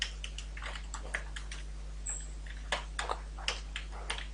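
Typing code on a computer keyboard: a run of quick, irregular key clicks, close and fairly quiet, heard alone with no talking.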